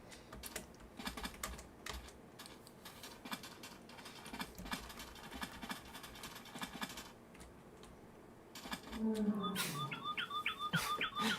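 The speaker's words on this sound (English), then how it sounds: "Nice bird sounds again, by the way." Game bird calls, Terraria-style chirps in a modded Minecraft world, arrive as a quick cluster of bright tweets near the end, preceded by soft keyboard clicking and typing throughout.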